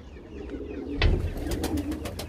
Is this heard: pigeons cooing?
yes